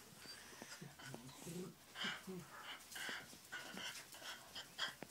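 A small dog whimpers and pants in short breathy bursts at close range, with a person's voice talking in between.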